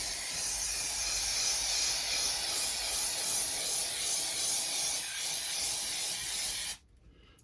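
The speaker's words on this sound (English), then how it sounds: "I've shaken this up really well and I'm just going to spray down now." Sennelier fixative sprayed from a shaken aerosol can over oil pastels, one continuous close hiss that lasts several seconds and then cuts off abruptly.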